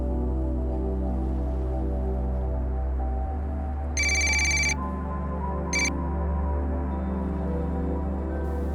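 A phone's short electronic ringtone chirps twice over a steady low background hum, a longer burst followed by a brief second one, signalling missed calls from a father's number.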